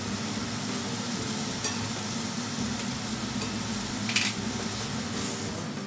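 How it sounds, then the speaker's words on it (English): Beef searing in a hot pan of vegetable oil and butter, a steady close sizzle and spatter with a few sharper pops, no voices. "As the beef starts to get seared, I'm gonna baste it a little bit"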